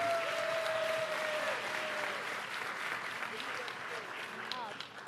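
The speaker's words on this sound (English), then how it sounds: "Let's give her a round of applause." An audience at a town hall event claps in sustained, fairly loud applause that fades slightly toward the end, with a voice briefly audible over it.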